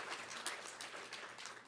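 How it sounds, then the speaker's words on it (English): An audience clapping at a community gathering, a faint, distant wash of applause from many hands that holds steady without any voices. "That's worth clapping for."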